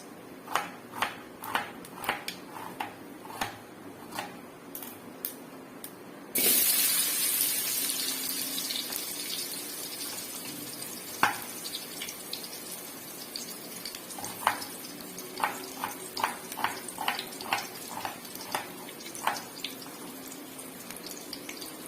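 Chopped onion drops into hot oil for a crab gravy: after a few sparse pops, a sudden loud sizzle rises and settles into steady frying with scattered crackles and spits.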